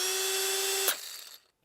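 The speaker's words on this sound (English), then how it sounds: "Milwaukee has a more of a precise sound. The gears sound better." A Milwaukee cordless drill runs with a steady, high, even gear whine for almost a second, then cuts off and winds down briefly to near silence.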